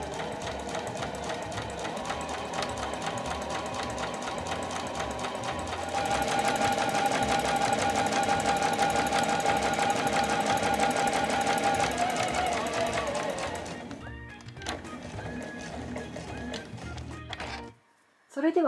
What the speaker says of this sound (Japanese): そしたら待ち針で留めて際を縫います